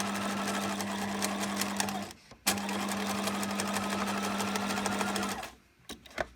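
An electric sewing machine stitches a fabric basket in two long steady runs, a loud close whirring hum that stops briefly between them and falls quiet at the end.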